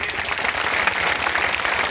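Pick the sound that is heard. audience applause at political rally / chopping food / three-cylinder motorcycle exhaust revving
audience applause at political rally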